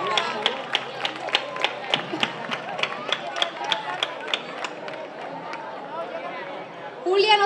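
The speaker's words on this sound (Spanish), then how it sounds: "¡Un fuerte aplauso!" Townsfolk at the Verbena San Paulino festival clap in steady rhythmic unison, sharp evenly spaced claps that carry on for several seconds and then thin out, while a voice talks over them.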